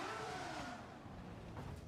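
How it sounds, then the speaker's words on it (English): A race car engine in Gran Turismo 7 revs up, then its pitch slowly sinks as the revs die away, heard faintly and smoothly over a short span. "So if I spike the revs here"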